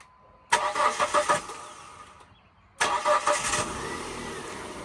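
A car engine cranks in two bursts, the second catching and settling into a steady idle, loud and close.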